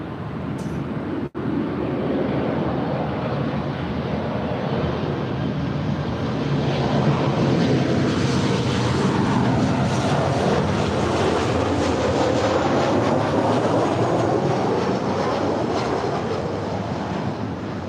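A Turkish Airlines Boeing Dreamliner departs LAX with a loud, sustained jet roar that swells and holds, heard from nearby after a single sharp click at the start.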